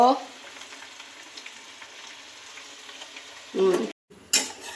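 Sago with a little chilli is stirred in a pan over a low, steady sizzle, ending in a few louder spoon scrapes and clunks with a short gap between them.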